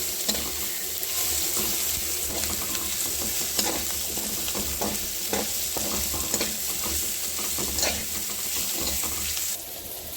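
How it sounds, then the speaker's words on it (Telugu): Tomato pieces sizzle steadily as they fry in a pan, with frequent scraping and stirring clatter from a spatula, continuous and close throughout. "టమాటా ముక్కలు ముక్కలు దగ్గరికి వచ్చాయి బాగా ఫ్రై అవుతున్నాయి"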